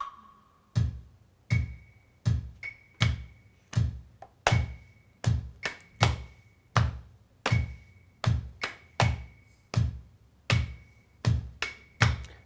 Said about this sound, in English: the superscore version actually has a little example of what that sounds like with a bass drum and claves